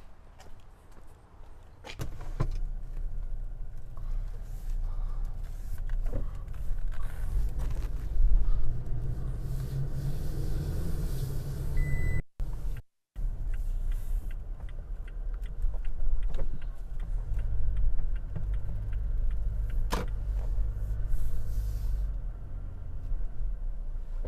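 A 2022 Toyota Tacoma pickup with a Harbor Freight Haulmaster bed extender rolls along on a drive, a steady low road rumble with occasional knocks and rattles, heard from inside for about twenty-four seconds without talk.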